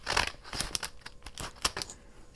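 Scissors snip into craft material in a rapid run of short, crisp cuts and rustles, close and fairly quiet, with no voices.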